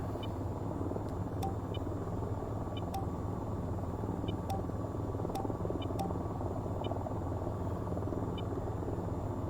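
AH-94 helicopter from VTOL VR flying, a steady broad rotor and engine rumble that holds evenly throughout, with faint periodic high clicks over it and no talk.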